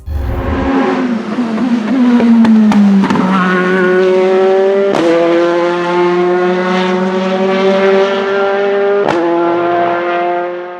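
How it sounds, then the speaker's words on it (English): Nissan-Gibson 015S LMP2 race car at high revs, its exhaust howling as a loud, continuous engine note climbs and drops through several sharp gear changes, heard close and alone. "The car was renowned for being reliable and lightweight while having a high revving exhaust"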